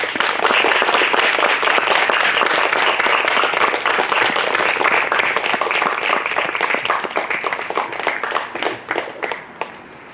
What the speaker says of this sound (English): teachers and mentors a round of applause